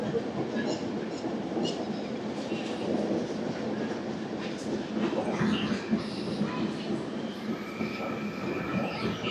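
The Golconda Express passenger train, number 17201 from Guntur to Secunderabad, rolls along the rails with a continuous close rumble, scattered wheel clatter and occasional faint squeals.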